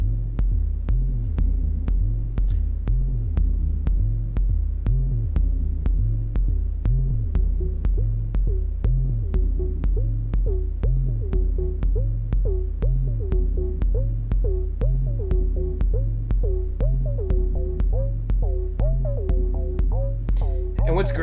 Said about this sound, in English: What's great is this is just a triangle wave. It just sounds so good.